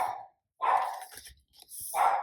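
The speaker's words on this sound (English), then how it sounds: "Sorry about the barking" A dog barks indoors, two or three short close yips with brief gaps between them, fairly quiet overall.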